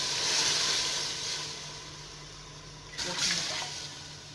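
Water pours steadily into a cooking pot of rice and chickpeas with a hissing, splashing rush, easing off briefly before a second pour starts up again, close and moderately quiet.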